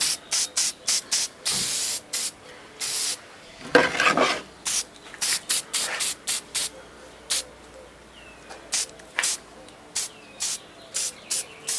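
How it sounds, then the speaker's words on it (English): A Badger airbrush-style sprayer puffs red paint onto an unsanded wooden Western plaque sign in a string of short, sharp hissing bursts, one longer spray in the middle, fairly close. "I set up my little Badger sprayer, the one I told you I bought on Amazon, and I put some red in it."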